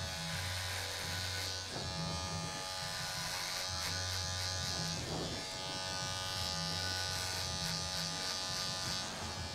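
Electric hair trimmer buzzing steadily while cutting a high fade at a barbershop, a close continuous hum that briefly changes pitch as it moves over the head.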